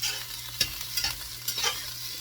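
Onions frying in a pan for an omelette, giving a steady close sizzle with a few louder bursts of stirring scraping across the pan, and no talking.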